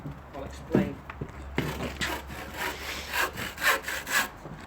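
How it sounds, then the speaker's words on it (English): Brand new Irwin hand saw cutting through decking wood around a drain pipe, a run of steady rhythmic back-and-forth strokes, close and clear, with voices talking lightly in the background. "this is a brand new Irwin saw"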